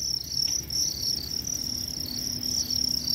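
Crickets on a cricket farm chirp in a steady, shrill, continuous trill, close and moderately loud, with no voices.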